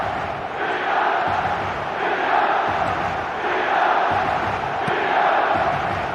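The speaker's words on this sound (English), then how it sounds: "Well, the crowd clearly like what they just saw." A simulated stadium crowd in the PES Mobile football video game roars and cheers in steady, swelling waves, loud and continuous across the whole stretch without any commentary.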